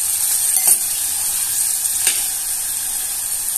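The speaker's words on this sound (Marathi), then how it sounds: "आता त्याच्यात आपण एक बारीक चिरलेला कांदा टाकून घेतोय। कांद्याला छान शिजवून देतोय आपण।" Finely chopped onion sizzling in hot oil with cumin seeds, a bright continuous hiss close by with a couple of faint spoon clicks against the pan.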